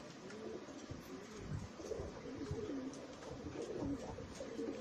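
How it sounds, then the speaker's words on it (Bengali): Pigeons, including Teddy and Budapest baby pigeons, coo in soft repeated low phrases at close range over steady background noise, with no talk. "খুব সুন্দর একটা কবুতর"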